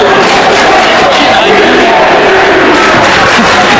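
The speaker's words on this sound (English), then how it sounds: "here come the Daddy's Money chants yet again from the Glen Allen student section" Student section of Glen Allen chanting at a high school basketball game against Deep Run, a loud, dense crowd roar of many voices filling the whole gym without a break.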